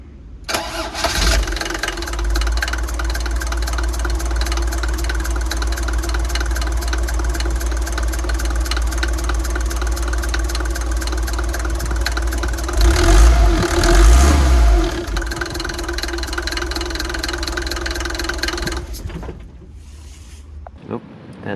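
A rebuilt Mercedes T1 engine cranks, catches and runs at a steady, close idle for most of the stretch, rises briefly in a blip of revs, then shuts off near the end.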